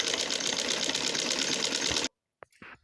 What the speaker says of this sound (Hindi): अब हम इसके ऊपर मशीन से पक्की सिलाई लगाएंगे।